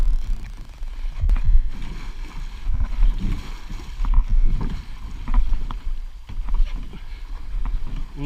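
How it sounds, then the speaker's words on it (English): A canoe paddled down the Granite River in the Boundary Waters, with close paddle splashes and water churning in uneven strokes, wind buffeting the microphone and people talking over it. "We need you to paddle with us at the same time on the right side."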